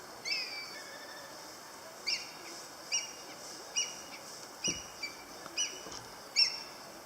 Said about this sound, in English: You hear the hawk?